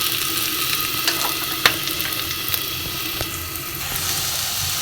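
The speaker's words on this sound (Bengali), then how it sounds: "ওই গরম করা তেলেই দিয়ে দেবো, দেখো, একটা তেজপাতা, 2টো শুকনো লঙ্কা চেরা, দারচিনি, লবঙ্গ, 2টো এলাচ চিড়ে দেওয়া, গোলমরিচ, সব কটা তেলে দিয়ে দিলাম।" A bay leaf, slit dried chillies, cinnamon, cloves, cardamom and peppercorns sizzle in hot oil with a steady close hiss and scattered faint crackles and pops, without speech.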